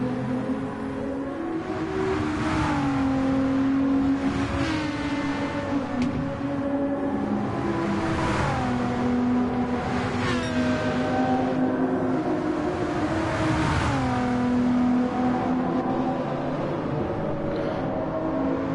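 Race car engine in Gran Turismo 7 on the Tokyo Expressway: a loud, sustained engine note repeatedly climbing in pitch through the gears and dropping on each shift, with several rising revs in a row and no talk.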